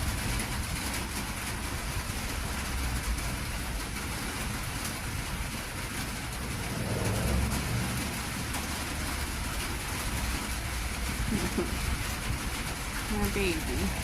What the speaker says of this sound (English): Oh, who else loves that sound of the rain hitting the tin roof?